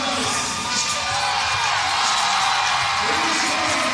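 A big crowd at a CrossFit semifinal lifting event roars continuously, with whoops and yells rising over a dense, steady wall of cheering.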